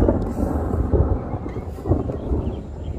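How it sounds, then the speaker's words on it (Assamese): Low, rolling thunder rumbles continuously through a gathering storm in open country just before rain, with swelling pulses of deep grumbling and no voices. "পূৰা গিৰগিৰাই আছে"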